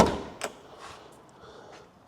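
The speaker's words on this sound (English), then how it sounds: "Door shuts" A sharp thud of a VW T25 van door shutting opens the moment, followed by a few fainter knocks and clicks nearby, with no talking.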